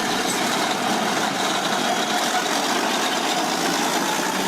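A Caterpillar diesel engine idles after a cold start, a loud, steady, rough rumbling drone that holds constant throughout.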